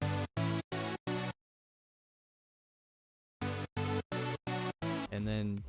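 Layered saw and square synth chords built in FL Studio with Serum for a dance beat play as four short rhythmic stabs, then a pause, then five more stabs leading into a held chord.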